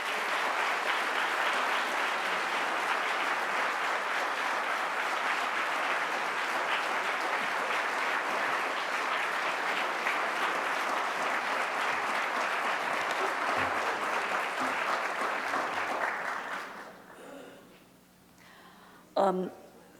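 Sustained audience applause welcoming classicist Mary Beard to the podium at a public lecture, a dense steady clapping wash for about sixteen seconds before fading out, followed by near quiet and a brief bump.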